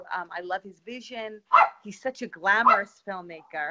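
Dogs bark in short yips and bow-wows in the background while someone speaks continuously over them, the barks mixed under her talk.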